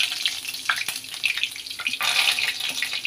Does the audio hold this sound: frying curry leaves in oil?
yes